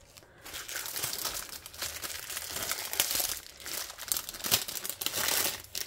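Close, continuous crinkling and crackling of bubble wrap as a diamond-painting clock canvas is unwrapped, with irregular louder rustles and tearing-like bursts across the whole stretch.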